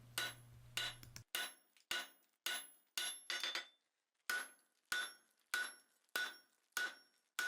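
Repeated hammer blows on hot steel over an anvil horn, using the peen and cross peen while forging a grille frame: a steady run of about a dozen sharp, ringing metallic strikes with brief pauses between them, close and alone.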